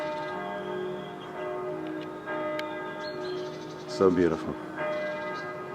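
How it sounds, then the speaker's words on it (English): Church bells in Bergen, Norway ring out at ten in the morning in a sustained, overlapping peal. Bright ringing tones hang in the air, and a voice briefly speaks close by partway through. "I just happened to be here at 10 a.m. when the bells started chiming."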